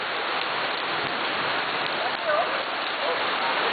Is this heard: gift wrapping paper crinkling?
no